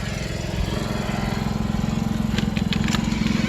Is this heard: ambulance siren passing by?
no